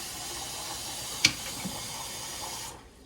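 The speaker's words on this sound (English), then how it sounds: "And I always add a little bit more hot water just so those vegetables are good and covered." Hot water pours steadily into a pot of pot roast vegetables, a continuous watery hiss with a brief clink partway through, then the pour stops.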